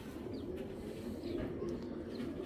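Pigeons of an old breed in assorted colours coo softly in a loft, low repeated murmuring coos close by over a steady hum, with faint brief chirps.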